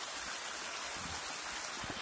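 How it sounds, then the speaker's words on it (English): Heavy rain drumming on an Ozark Trail 10 by 25 foot instant tent, a dense, steady hiss of countless drops with a soft low patter on the fabric, close and continuous. "The rain's really coming down."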